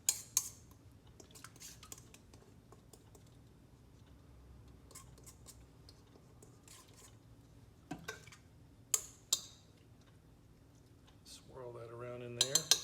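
Yeast mixture stirred in a bowl with a utensil: quiet scraping and a handful of sharp clinks and taps against the bowl, with a brief voice near the end.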